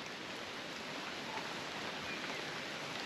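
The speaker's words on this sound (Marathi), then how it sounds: "हा पावसाचा असा आवाज" Steady rain falls on a forest trail during a trek up Mahuli Fort, an even, dense hiss of drops that stays constant throughout with no other distinct sounds.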